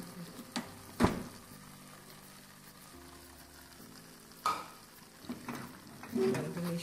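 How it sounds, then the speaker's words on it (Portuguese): Coconut and condensed milk are stirred in a pan, with a spoon scraping and knocking against the metal in scattered, close strokes and a faint low simmering hiss beneath. "Agora eu vou mexer aqui, ó."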